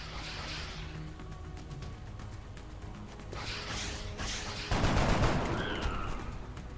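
Gunfire from the video game XCOM, a dense burst of shots rising around the middle and staying loud, with a steady game background underneath and no talk.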